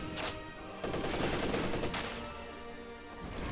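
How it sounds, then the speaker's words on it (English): Suppressive machine gun fire in Company of Heroes 2, a dense rattling burst of rapid shots in the middle, with scattered gunfire before and after, moderately loud against battle ambience. "Suppressive fire!"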